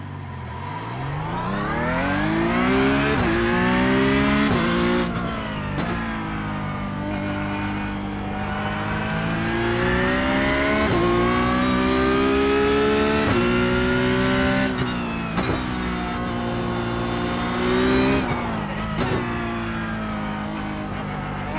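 A sim racing game car engine revs and shifts repeatedly, pitch climbing through each gear then dropping on upshifts, loud and close for the whole stretch with no talking.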